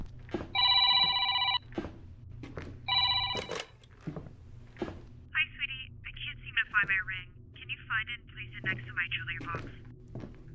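A telephone bell rings in a home while a table is being set, two loud bursts of ringing near the start, followed by warbling electronic chirps and a low background hum, with thumps of household activity.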